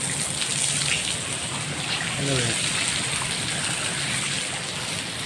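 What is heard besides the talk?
heavy pouring rain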